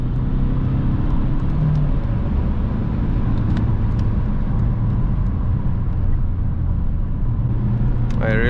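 Inside an Alfa Romeo 159 1.9 JTDm 150 hp diesel while driving: a loud, constant low engine and road rumble fills the cabin, with faint clicks and a brief rise near the end.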